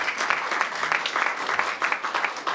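An audience at a federal-provincial childcare announcement claps, a brief, moderately loud spatter of applause from a modest crowd in an indoor hall.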